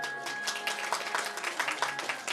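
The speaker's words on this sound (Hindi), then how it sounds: "एक बार इनके लिए ताली बजा दो जरा" An audience at a religious discourse claps steadily for a couple of seconds, a dense, even patter of many hands close by with no voices over it.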